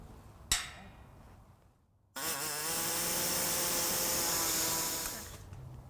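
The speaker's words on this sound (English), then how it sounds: "I'm going to use an air saw and we're just going to open this up a little bit" An air saw cutting to enlarge a hole in the frame of a 2014 Ford Focus, starting after a sharp click and short pause, then a loud, steady high-pitched buzzing whine held for about three seconds before winding down.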